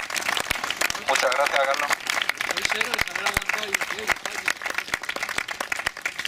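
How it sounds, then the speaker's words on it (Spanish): Clapping from an audience at a talk on economics and banking breaks out and rises, sharp hand claps continuing steadily while someone speaks briefly over them. "Pido un aplauso para Carlos Sánchez Mato"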